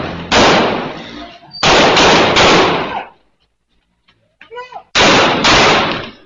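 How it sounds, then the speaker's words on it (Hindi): Sharp, loud pistol gunshots crack out in quick bursts during a street shootout with robbers in Karachi, a pause with faint voices between, then another pair of shots. "शहरी ने भी पिस्तौल निकाला और डाकुओं पर गोलियां चला दी।"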